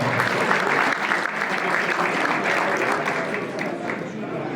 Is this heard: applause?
yes